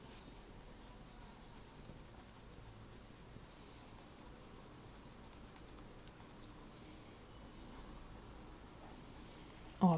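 Neon pink colored pencil shading on paper, a faint, continuous close scratching and rubbing of the lead with no talking, ending in a sharp tap.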